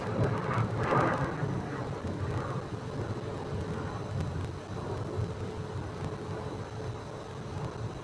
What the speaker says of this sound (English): That's a MAX 8 flight right there. That's the one heading to Oakland.